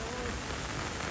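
Monsoon rain falling steadily as a dense, broadband hiss during a wet-season shoot, loud and continuous over about a second with no other sounds.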